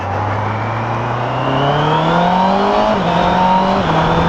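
A Honda CBR650R E-Clutch motorcycle accelerates along a straight road, its four-cylinder engine note climbing steadily in pitch, dipping briefly at a smooth gear change, then rising again, loud and close.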